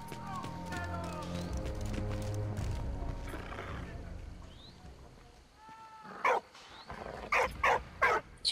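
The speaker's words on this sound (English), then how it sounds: "Shut up, dog. You're gonna give me away." A dog barks in a short run of sharp, loud yelps near the end, inside the video game Valiant Hearts, after a stretch of game music and low talk.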